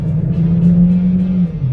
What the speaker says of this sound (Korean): 차량 주행 영상입니다